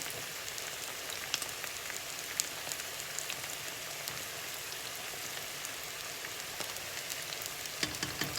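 Meat with carrots and onion fries in a pan with a continuous soft sizzle and crackle, dotted with small pops and spatters, steady and fairly quiet, with no talking.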